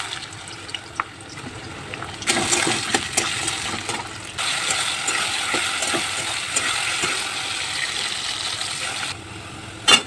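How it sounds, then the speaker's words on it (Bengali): Potatoes fry in a pan with bay leaf and cumin, a close sizzle that rises sharply after a few quiet seconds and holds steady, with scattered scraping stirs and clicks, then drops away at the end. "তারপরে আলুটা ভেজে নেবো।"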